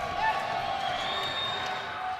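Home crowd noise at a Yeshiva Macs college men's basketball game against NYU: a steady, loud roar of cheering fans fills the arena throughout, with voices mixed into the din.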